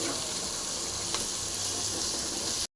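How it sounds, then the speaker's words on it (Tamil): Masala with chana dal, black pepper, cumin and fennel seeds frying in oil for an eggplant dish gives a steady, close sizzle that runs unbroken for about three seconds, then stops abruptly. "மசாலா நல்லா ஃப்ரை ஆகுதுங்க"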